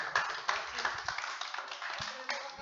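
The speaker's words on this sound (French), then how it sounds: "Je vous demande d'applaudir Monsieur Pablito Rodriguez." An audience claps for a former OGC Nice player at a tribute event, scattered hands building into moderate applause with a few sharper individual claps and faint voices underneath.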